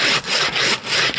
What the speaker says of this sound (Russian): А пилка у нас работает